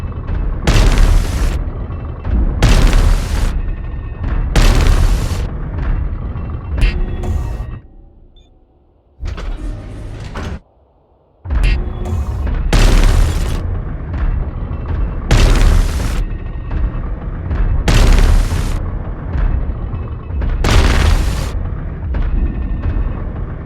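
Repeated heavy booms from a destroyed target in the Eve Frontier space game, about seven loud blasts spaced every couple of seconds, with a brief quieter gap midway filled by a low rumble.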